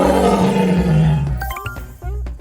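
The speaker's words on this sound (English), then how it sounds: "It's a tiger!" A tiger roars loudly and close, one long deep rumbling call that fades out near the end, followed by brief bright tonal sound effects.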